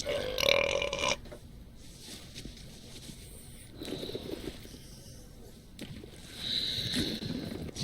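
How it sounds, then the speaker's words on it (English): Burps ring out in a burping contest in the video game Return to Monkey Island, loud and close at the start, followed by quieter pauses and another long belch near the end. "Hey, how about a burping contest?"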